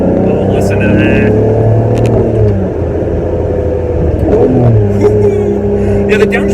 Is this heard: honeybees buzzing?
no